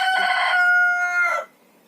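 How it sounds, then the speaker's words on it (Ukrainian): A large white rooster crows once, loud and close, a single bright cock-a-doodle-doo of about a second and a half that ends abruptly into quiet. "Це співає пітушок великий, біленький он там"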